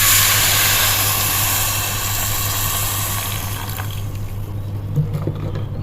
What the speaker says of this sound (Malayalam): ഇപ്പം നമ്മൾ വെള്ളം ആഡ് ചെയ്ത് കൊടുത്തിട്ടുണ്ട്.